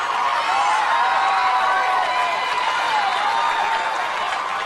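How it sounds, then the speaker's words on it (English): A dense, loud crowd cheers and roars steadily at an America Ninja Warrior course, with whoops and clapping mixed into a continuous wall of noise. "He's got a crazy crowd cheering him on"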